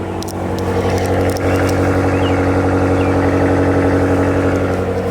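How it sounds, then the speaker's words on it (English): A BMW 760i idles or runs close by with a loud, steady, deep engine and exhaust burble carrying a gargling rumble, holding even throughout with no speech. "It does have a nice gargle to it. I'll say it's not a bad sounding car."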